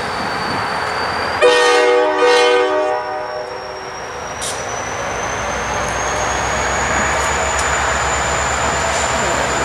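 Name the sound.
freight train passing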